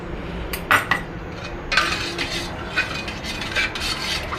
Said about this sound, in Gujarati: એક ચમચી તકમરિયા નાખી દઈશું